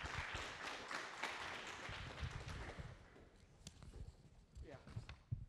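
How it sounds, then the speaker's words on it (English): An audience applauds at the opening session of a space technology for mobility conference: dense, steady clapping that fills the first few seconds, then thins into scattered claps. "Round of applause, please."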